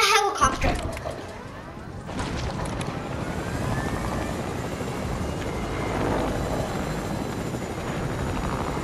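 A helicopter's steady rotor drone in the video game Fortnite holds at a constant level after a brief burst of louder noise at the start.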